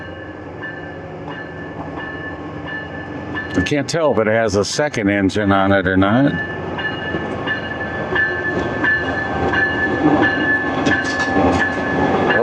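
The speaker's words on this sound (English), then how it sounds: "we have an Amtrak train come into the station here." An Amtrak passenger train with a new locomotive pulls into the Williston, North Dakota station, a steady rumble of rolling cars with a loud horn blast mid-clip, while someone talks over it.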